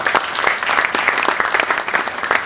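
Students and guests at a college media festival applaud, a lively stream of individual claps with clear rhythmic peaks, steady and fairly loud for the whole stretch.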